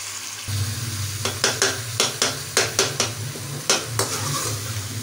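Chicken karahi with ginger and green chilies fries in a pan, a steady sizzle under a run of sharp spatula scrapes and clinks against the metal, about a dozen strokes close by.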